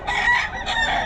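A broodcock rooster crows loudly and close, a sustained, strained two-part call filling the whole moment with no pause.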